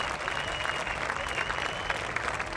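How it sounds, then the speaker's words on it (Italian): A large crowd in a city piazza applauds steadily, dense clapping sustained at an even level throughout. "La piazza esplode in un applauso."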